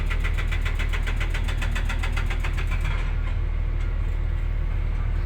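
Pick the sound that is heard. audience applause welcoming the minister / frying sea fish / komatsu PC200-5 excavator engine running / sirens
komatsu PC200-5 excavator engine running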